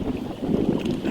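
Strong gusting wind from Storm Ciara buffets the microphone at a lakeside carp fishing spot at night, a rough, rumbling roar that rises and falls without any talk.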